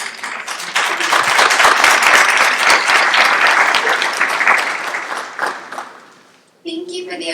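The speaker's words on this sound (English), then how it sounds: "Thank you for the applause." An audience applauds a speaker: a thick, crackling wash of many clapping hands swells, holds for several seconds, then tapers away before a single voice starts talking close to the microphone.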